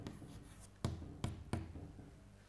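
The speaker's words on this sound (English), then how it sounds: "I am writing" Writing on a board in a quiet classroom, with a few faint scratchy strokes and three sharper taps as the marker or chalk meets the surface.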